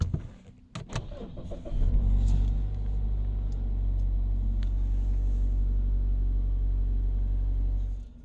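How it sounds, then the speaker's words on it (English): A Mazda car's engine cranks with a few clicks and turns over, catching into a steady low idle rumble that holds evenly, heard close up with no talking. "we're going to be able to start the vehicle now"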